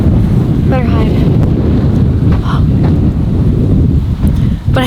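Strong wind buffeting a rooftop patio in Mexico, a loud continuous roar of gusts pounding the microphone, with brief bits of voices half-buried beneath it.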